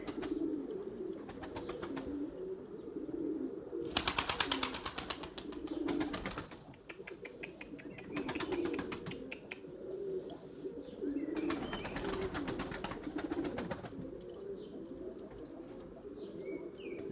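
Pigeons in a loft, a male chasing a female, giving repeated low throaty coos that come in bursts, with brief louder rustling and wing flutters in between.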